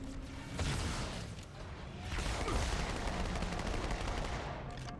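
Rapid submachine gun fire in Halo 2 on Cairo Station, dense bursts of automatic shots crackling continuously for several seconds at close range amid other game noise.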